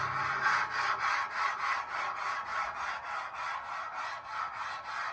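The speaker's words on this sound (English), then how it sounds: "now with this pumice stone that the Griddle grill cleaning kit comes with, we're going to hit these rust spots and see what happens" A pumice stone from a griddle cleaning kit scrubs rust spots on a Blackstone griddle in light, close, rhythmic rasping strokes, about three per second and steady throughout.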